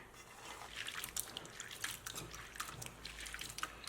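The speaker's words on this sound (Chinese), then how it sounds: "吃之前呢，我们把黄豆再给它充分的淘洗一下" Soybeans are rinsed in water by hand, with soft faint sloshing and dripping splashes that continue quietly for a few seconds without speech.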